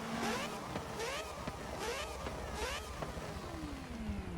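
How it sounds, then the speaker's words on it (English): Mazda 787B four-rotor rotary race car, the 1991 Le Mans winner, driving on track, its engine heard at a distance with repeated rising and falling revs as it shifts, a thin buzzing whine over steady background noise. "Four-rotor. Absolutely sounds amazing."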